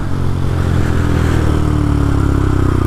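Benelli TNT 135 motorcycle engine while riding, a loud close steady drone with a slight rise in pitch as it pulls, plus wind rush, no talk.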